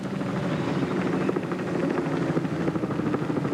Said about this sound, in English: And Peter Brock, with a view from our 7 chopper,